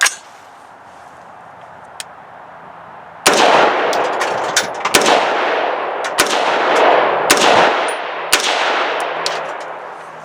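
Unsuppressed rifle with a 2-port muzzle brake firing 55 grain FMJ rounds, several very loud sharp blasts spaced a second or two apart, each leaving a long reverberating roar outdoors.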